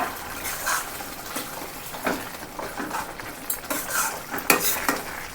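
Mushroom and cashew curry is stirred in a pan, with repeated scraping and clinking of a spoon against the metal over a soft sizzle, the strokes coming in an uneven rhythm close to the listener.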